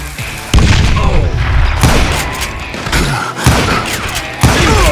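Gunfire in the Western shooter Call of Juarez: Gunslinger comes as several loud booming shots and thuds in quick succession, with brief echoing tails between blasts.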